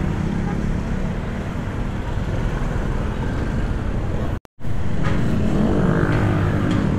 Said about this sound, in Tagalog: traffic pa rin pala dito.